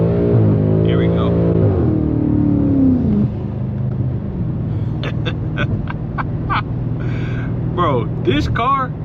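A BMW F90 M5 accelerating on a wet back road, a loud sustained engine roar rising in pitch with gear changes, tire and water noise underneath and someone talking over it.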